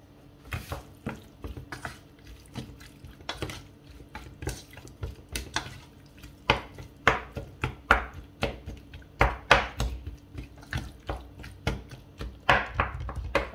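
Tex-Mex chicken panini filling mixed with sauce in a bowl, irregular wet clicks and taps from the utensil, near and moderately loud, with no speech.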